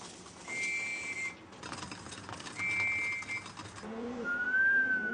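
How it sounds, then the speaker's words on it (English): Sharp, high pigeon training whistle blasts repeat three times over a busy outdoor background, the last one rising and slightly longer than the first two. "the whistle, signaling it's time to return home"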